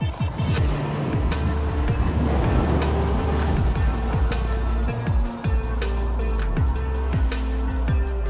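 A Nami electric scooter ridden hard on a hot lap: a loud, close motor whine that keeps rising and falling in pitch with the changing speed, steady wind rush throughout and no talking.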